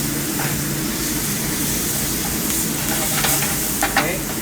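Garlic, onion and tomato sofrito sizzles steadily in a pan for paella, with a spoon stirring and scraping through it and a few sharper clinks near the end; no talking.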